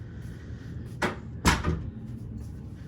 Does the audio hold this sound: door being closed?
yes